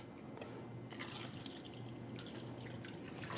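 Water is poured from a jug onto a tea bag, making a faint, thin trickle and scattered drips over a low steady hum, quiet and close.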